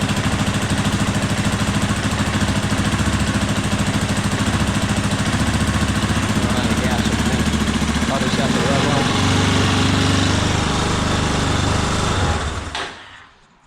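A Yamaha Raptor 350 ATV engine runs loud and steady at high revs, buzzing throughout before cutting out near the end, a lean-running machine that has run out of gas.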